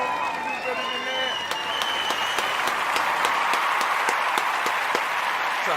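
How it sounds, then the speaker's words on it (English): A crowd applauds steadily, a dense wash of clapping that swells and holds, with a voice speaking over it at the start. "we want to give all the Umoja born, all the Umoja babies a round of applause"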